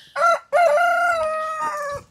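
A rooster crows twice in a backyard garden, a short harmonic call followed by a longer drawn-out cock-a-doodle-doo, loud and close with no talking.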